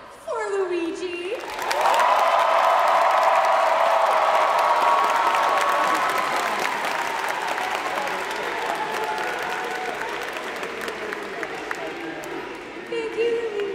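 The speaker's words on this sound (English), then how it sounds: "Can we have a round of applause for Luigi?" A large audience breaks into applause and cheering for a contestant named Luigi after a stage zombie game, a loud sustained roar of clapping and shouts following a short voice at the start and fading toward the end.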